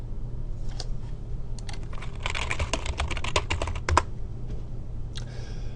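Someone types a web search on a computer keyboard in bursts of quick, close key clicks with brief pauses, ending on a few separate taps.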